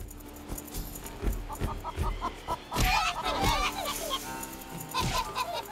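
A chicken clucks repeatedly in short, close, choppy bursts, with a brief louder squawking flurry midway and more clucks after.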